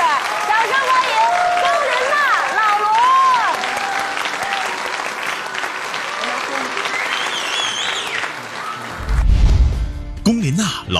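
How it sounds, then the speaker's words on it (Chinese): A studio audience applauds to welcome a singer and her husband onto a Chinese TV show, the clapping running under loud voices and music before thinning near the end. "掌声欢迎"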